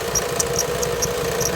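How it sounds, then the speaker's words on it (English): A 1997 Lincoln Mark VIII engine idles with a steady low hum while a belt gives short, high chirps at a quick, roughly regular pace, close by and with no talk. "And that chirp could be the belt."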